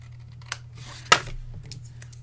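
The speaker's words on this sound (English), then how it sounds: "I left it long, so I'm just going to trim it to size." A pair of scissors trims craft material at a crafting class, with a single sharp snip standing out near the middle against a faint hum, plus a few lighter clicks around it.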